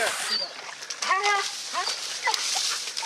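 A police K9 dog on a night arrest near a wood line gives a few short whimpering barks and yelps, moderately close, with officers shouting over and between them.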